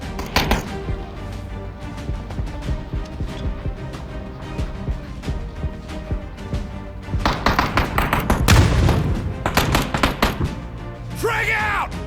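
A frag grenade goes off in the video game PUBG, a heavy deep boom in the middle of a loud stretch of gunfire and sharp impacts, while players shout over the action.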